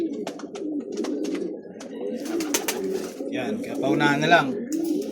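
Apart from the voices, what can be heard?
Taiwan imported pigeons cooing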